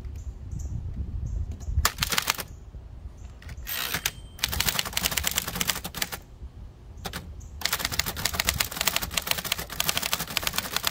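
Keys clatter on a 1925 Remington Model 2 typewriter used outdoors, in bursts of rapid mechanical strikes separated by short pauses, close and fairly loud over faint background ambience.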